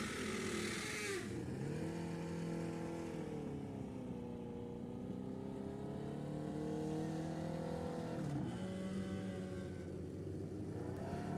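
Drag racing car at the Pacific National Open doing a burnout before staging, a loud sustained engine roar that rises and holds, dips briefly, then surges again, close and continuous.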